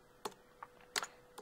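Light typing on a computer keyboard, a handful of soft, separated key clicks spread over a second and a half in a quiet room.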